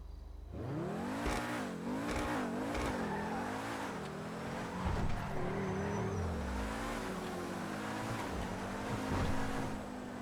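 An Ubermacht Niobe sports car engine in GTA Online revs repeatedly, pitch climbing and dropping through gear changes, then settles into a steady loud drone; no talking.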